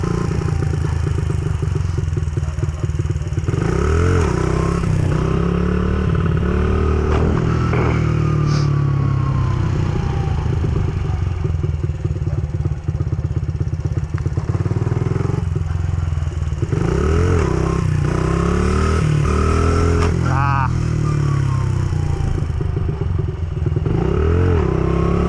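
A motorcycle engine held under careful throttle control during stunt practice, running continuously and close with steady revs, small throttle swells and occasional clattering mechanical noise.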